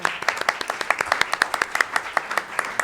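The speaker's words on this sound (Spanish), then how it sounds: "Un aplauso." An audience gives a short round of applause after a panel talk on the Spanish language and migration; a few distinct pairs of hands clap in a quick, fairly regular rhythm, nearby and clear, with no voices over it.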